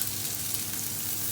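Onions sizzle in a pan for egg curry, a steady dense crackling fry with no pauses over the short stretch.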